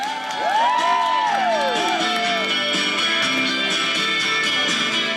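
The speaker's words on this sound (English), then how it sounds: "Let's get a large round of applause for Collins and Lonnie" Outdoor winter festival crowd applauding and cheering, with shrill whoops and children's shouts rising over steady clapping, loud and sustained for several seconds.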